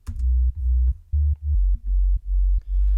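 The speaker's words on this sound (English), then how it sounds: "So what I have is this sub I've made in Serum." A deep, clean sine-wave sub bass patch built in Serum, filtered and in mono, plays a short rhythmic line of sustained low notes with small gaps between them, loud and alone.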